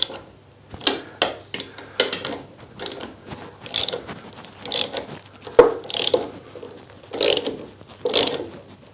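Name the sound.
ratchet tightening coach bolts mounting workbench vise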